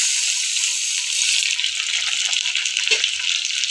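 Green dal frying in a pan, a dense continuous hiss and sizzle with light scraping clicks from stirring, close and steady.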